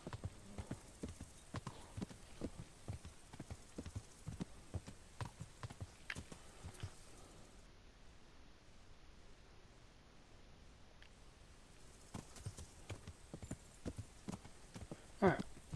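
Horse hooves trotting in the medieval video game Kingdom Come: Deliverance: a steady, close clip-clop rhythm that pauses for several seconds mid-way, then resumes and carries on to the end.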